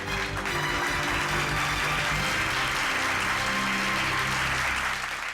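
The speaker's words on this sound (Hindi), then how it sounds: "बंद करो ये तालियां।" A large crowd applauds steadily and loudly throughout, dense clapping filling the whole stretch without a break.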